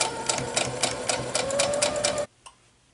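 A sewing machine stitches quilt fabric in a rapid, even run of mechanical clatter, close and moderately loud, then stops suddenly, leaving near silence with one small click afterward.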